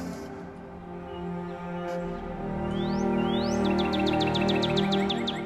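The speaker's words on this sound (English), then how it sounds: "Beautiful little red bird up there. You can hear him." A small red songbird sings from a distance on a chilly, grey day, a couple of rising whistles followed by a quick run of repeated chirps over steady outdoor hum.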